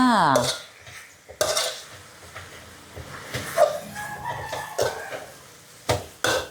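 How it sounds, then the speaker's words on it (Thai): Vegetables (phak khan chong) being stir-fried with pork crackling in a pan over high heat: repeated metal clatter and scraping from a spatula against the pan, in short bursts and louder hits. "ผัดให้อร่อย ไฟแรงแรง"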